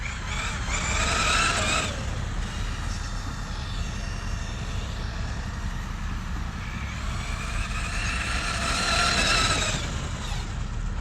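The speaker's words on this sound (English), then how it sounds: "So full speed, guys, full throttle all the way, and this car loves it." An FSR Tank 6s RC monster truck at full throttle whines and buzzes from some distance, its motor pitch rising in two louder passes near the start and end over a steady rumbling background.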